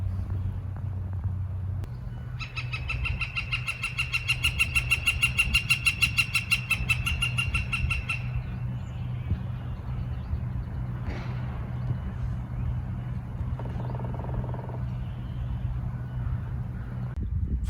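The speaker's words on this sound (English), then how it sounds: "that resonant, deep, repeated call, that was a pileated woodpecker" A pileated woodpecker gives a resonant, deep, repeated call in early March woods near Vancouver, BC, a run of evenly spaced notes heard at a distance over a low background hum.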